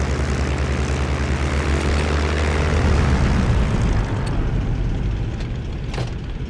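Hawker Tempest fighter's piston engine idling and taxiing in a flight simulator, a steady loud propeller drone that holds throughout and eases slightly near the end.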